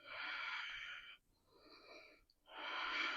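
Slow, audible breaths during a yoga side-bend stretch come close and breathy, with a long airy inhale, a softer pause, and another long exhale.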